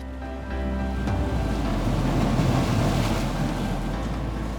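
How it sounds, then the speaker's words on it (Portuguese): Open-ocean ambience for the Titanic, the world's largest passenger liner, at sea in 1912: a steady rush of waves and wind with a deep low rumble, continuous and fairly loud, with no voices. "o maior navio de passageiros do mundo estava em alto mar, o Titanic"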